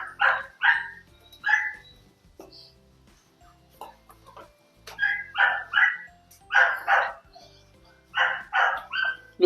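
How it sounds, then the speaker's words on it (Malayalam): A dog barks in bursts, pairs and triplets of sharp barks repeating near at hand across the stretch, with quiet gaps between groups. "കൂട്ടുകാരി അവിടെ കിടന്ന് കുരയ്ക്കുന്നുണ്ടല്ലോ"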